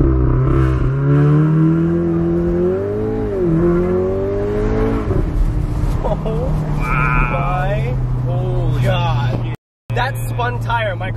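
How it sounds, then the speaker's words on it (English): A Mk7 Golf R with an APR downpipe and pops-and-bangs map launches hard from a standstill, engine note climbing and dipping through gears with a loud broadband burst as the tires spin, voices talking over it inside the car. "My car has never spun tires before."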